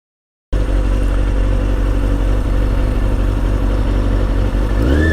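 A motorcycle sitting in first gear at an intersection stop, its engine running in a loud, steady, close low rumble after a brief silence, with a short rising whine near the end.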